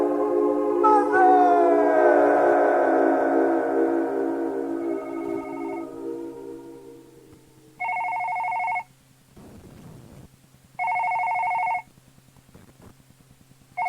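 A telephone ringing in two separate rings, each about a second long and spaced apart, clear and fairly loud, following a fading musical tone with a low steady hum underneath.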